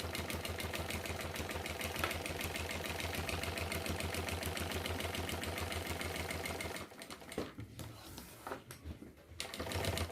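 A sewing machine runs steadily, stitching the finishing seam along the bottom of a retro backpack, its fast even needle rhythm continuous for most of the time before stopping and starting again in short bursts near the end.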